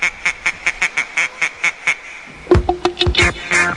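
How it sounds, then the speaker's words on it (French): A mother duck with her ducklings by a boat: a run of about a dozen evenly spaced quacks, followed by a louder, busier cluster of overlapping quacks and calls. "À côté du bateau, il y a une maman canard avec ses petits"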